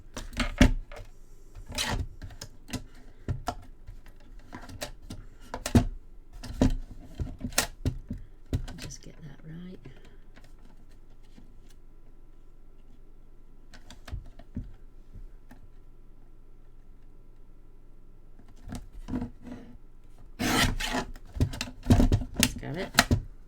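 Scissors snipping through card stock while trimming the back edge of a pull-out fun fold card, a run of sharp, close crisp cuts with pauses, then a final burst of snips; a person talks quietly in between.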